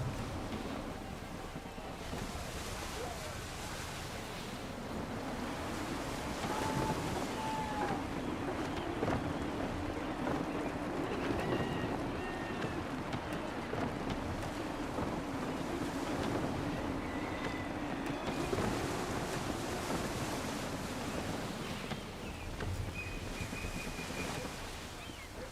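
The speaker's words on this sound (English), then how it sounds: "Gusty winds can be difficult to manage." Gusty wind sweeps over open sea from the deck of a sailing ship in Assassin's Creed, a steady broad roar with surf wash and occasional creaks, continuous and fairly loud with no talk.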